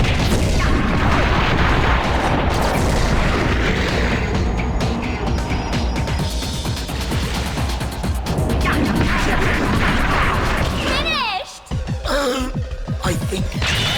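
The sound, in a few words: explosions and hits in boss fight, from video game Viewtiful Joe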